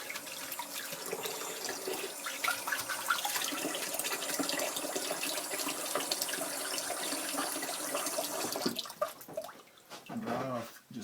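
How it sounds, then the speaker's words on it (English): Cool tap water runs for rinsing after a shave, a steady splashing stream into a sink that stops near the end, followed by a few small wet sounds. "So let's do some cool water."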